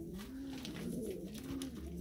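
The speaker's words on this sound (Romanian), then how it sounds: "Deci Staropolski, niște păsări, ei au stat în cutie până acum" Staropolski pigeons, a Polish breed, coo softly in a box, low warbling calls rising and falling in a steady stream, close and fairly quiet.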